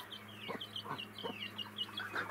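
Hen clucking quietly in a village coop or pigsty with her chicks, a series of soft, short clucks with a low steady hum behind them.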